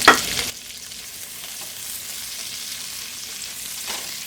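Onion and capsicum hit hot oil in a pan for a chicken sandwich filling, starting with a loud burst of sizzling that settles into a steady, close frying hiss with faint stirring, no talk.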